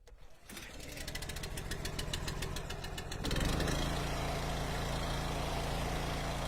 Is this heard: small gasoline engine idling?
yes